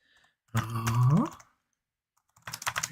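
Computer keyboard being typed on during a live stream, a quick burst of clicky keystrokes near the end, preceded by a louder rising tonal sound.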